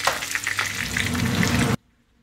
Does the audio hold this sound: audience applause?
no